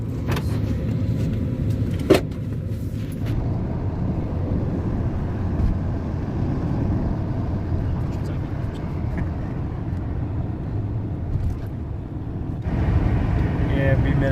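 A car under test by a mechanic checking for faults gives a steady low engine and road rumble from inside the cabin, with people talking over it throughout.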